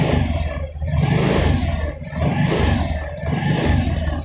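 A car engine revs hard as the throttle is opened during an ignition timing check, its loud, sustained roar surging in waves about three times with brief dips between.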